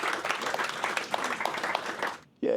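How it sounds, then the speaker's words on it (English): An audience at an evening AWS user group meetup in Brisbane applauds the panelists, a brief burst of clapping from a small crowd that fades out, followed by a voice starting to speak. "Let's give them a round of applause."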